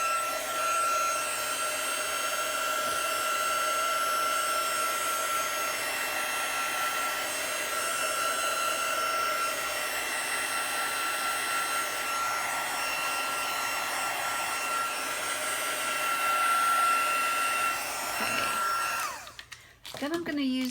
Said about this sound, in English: I'm going to put the heat gun on this again to make sure that this ink is